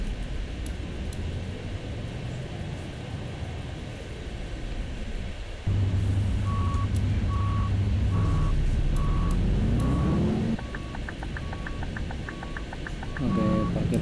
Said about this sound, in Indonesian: Oke, parkir mundur. Parkir mundur.